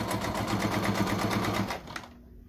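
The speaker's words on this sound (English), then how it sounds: "Now you're sewing on a curve." A sewing machine runs steadily, stitching a fabric face mask around a curve, its rapid, even needle rhythm close and clear for nearly two seconds before stopping abruptly.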